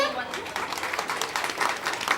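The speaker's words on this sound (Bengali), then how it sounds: "সবাই যারা উপস্থিত রয়েছে নিজের জন্য একটু জোরে হাততালি দিন" Audience applause at a Ganesh puja, a dense continuous patter of clapping sustained throughout, with voices mixed in underneath.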